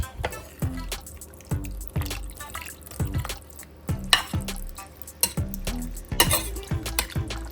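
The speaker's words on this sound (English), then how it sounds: "I'm gonna mix this up." A cornstarch mixture for chicken pot pie is stirred briskly in a bowl or pot, with repeated clinks and scrapes of the utensil forming an uneven, close rhythm.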